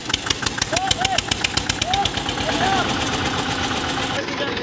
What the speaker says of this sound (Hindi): ये अर्थ भाई का ट्रैक्टर लेके जा रहा है खींचे